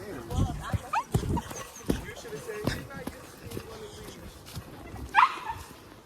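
Dogs off leash outdoors in nature, giving a few scattered barks and whimpers mixed with people talking, with a sharp yip near the end.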